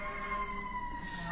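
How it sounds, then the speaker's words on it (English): An emergency vehicle siren drones steadily and faintly in the background, far off, heard during a court hearing with no talk over it. "we have a siren again"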